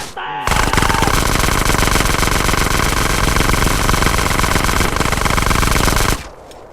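Automatic gunfire in the video game GTA, a loud, continuous burst of rapid shots lasting several seconds before cutting off abruptly.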